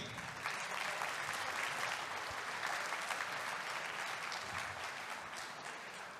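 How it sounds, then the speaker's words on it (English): A conference audience at a Lions Clubs forum in Klagenfurt claps, a dense sustained round of applause from a large hall crowd, even and moderately loud throughout, with no voices over it. "Please a big applause for the first Vice President of Lions Clubs International, Fabricio Oliveira from Brazil."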